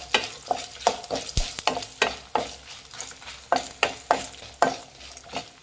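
Whole red chillies and coriander seeds dry roasting in a pan over medium flame, stirred in repeated scraping, rattling strokes about twice a second, close and fairly quiet with no talk.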